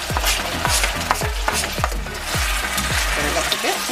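A pan of beef, broccoli and green onions sizzles steadily while a utensil stirs it, scraping in a regular rhythm of repeated strokes, close and fairly loud.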